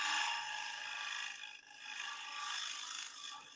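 A shear scraper rasps steadily across spinning wood on a woodturning lathe, a soft, continuous scraping hiss that eases off for a moment and then resumes, heard alone.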